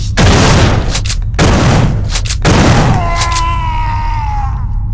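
Shotgun fire in the video game System Shock 2: three loud, heavy blasts about a second apart, followed by a fading, wavering whine.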